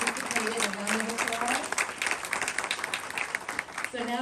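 A dense round of audience applause at a community network meeting, steady and close throughout, with a voice speaking over the clapping.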